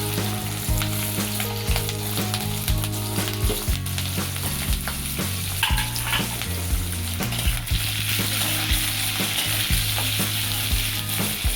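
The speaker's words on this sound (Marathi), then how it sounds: "आता आपल्याला मिरची टाकून घ्यायची आहे." Green chillies frying in a pan with cumin and fennel seeds for dahi mirchi, a steady close sizzle with occasional stirring scrapes, alone without speech.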